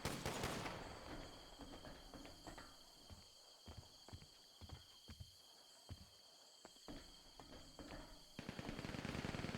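Gunfire crackles in a gang-versus-gang tournament shootout in the Summit RP video game, with scattered sharp shots and short bursts at a middling distance over a constant hum.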